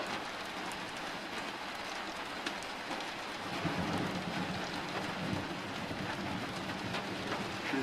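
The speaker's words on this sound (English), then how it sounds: "Just another storm." Steady heavy rain pours down during an early-morning thunderstorm, with a low rumble of thunder swelling partway through, continuous and close with no talking.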